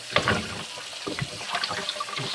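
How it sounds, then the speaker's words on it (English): Tap water splashes and gurgles while wine-making equipment is rinsed, a close, uneven wash of running and sloshing liquid over a couple of seconds. "right now, we're just rinsing"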